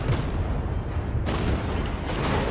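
Cruiser main-battery fire from an Omaha-class cruiser in World of Warships on the Strait map, a steady heavy rumble of booming salvos filling the whole stretch.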